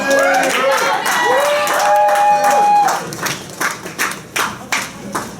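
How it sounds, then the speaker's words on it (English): Comedy roast audience clapping and cheering, a crowd's applause with whoops and shouts that thins out into a few scattered loud claps near the end. "Do you get a fucking better round of applause than that?"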